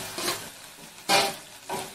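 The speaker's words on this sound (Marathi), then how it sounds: "आता तेल गरम झाले, आपण जो मसाला काढलेला आहे ना तो सगळा तेलामध्ये सोडू." Ground spice masala dropped into hot oil and stirred in a pan: short bursts of crackling sizzle that swell with each stir, close and fairly loud.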